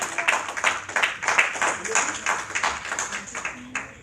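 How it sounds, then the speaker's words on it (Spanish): A church congregation at a Spanish-language service claps for the Lord, brisk clustered claps from many hands in an uneven rhythm, moderately loud with faint voices underneath. "para dar ese aplauso al Señor"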